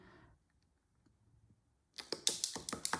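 Scissors snip through a planner's cover close to the coil holes, giving a quick run of sharp, crisp cuts at close range after a near-silent pause.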